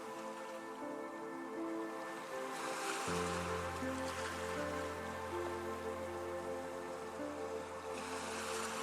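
Ocean waves wash in a steady, continuous roar of surf, broad and even throughout with no talk, beneath a sustained soft tonal hum.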